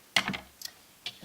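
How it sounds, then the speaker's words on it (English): Knitting yarn being cut with scissors, giving a few quiet, crisp snips spaced apart, close and soft with no talk. "Now I'm going to cut my working yarn"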